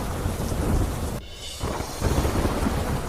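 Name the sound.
heavy rain with thunder in South Gujarat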